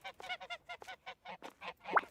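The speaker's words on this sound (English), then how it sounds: "They're geese, first of all." Geese honk repeatedly in a quick, irregular series of nasal calls, several birds overlapping close by, ending with one louder, sharper honk.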